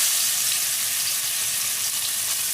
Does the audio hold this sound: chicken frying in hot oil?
yes